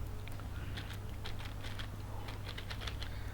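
Quiet, rapid tapping of keys on a computer keyboard, soft clicks in quick bursts over a low steady hum.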